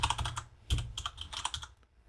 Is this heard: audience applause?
no